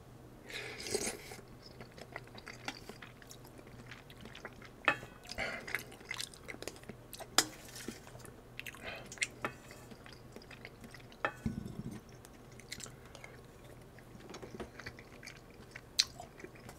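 Eating homemade Korean rice cake dumpling soup with anchovies from the broth, heard as close, quiet chewing and soft wet mouth sounds with occasional clinks of utensils against a bowl, no talking.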